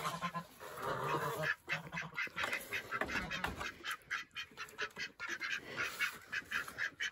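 Farm ducks on fresh pasture in North Carolina quack and honk repeatedly in overlapping bursts, close by and fairly soft, with no talking.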